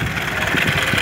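Steady idle from a cold 1.3 OHC engine in a 1984 Opel Kadett D GLS, a smooth, even low-pitched thrum with gentle rhythmic pulses, recorded close by and uninterrupted.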